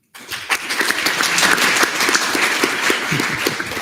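Senators in a student government chamber break into applause after a bill passes, a sudden loud round of many hands clapping that starts abruptly and stays dense throughout.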